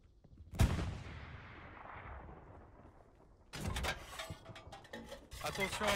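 Gunfire in the WWII shooter Hell Let Loose: one sharp shot that rings out into a long, fading echo, then after a quiet stretch a dense run of distant rattling bursts of rifle and machine-gun fire.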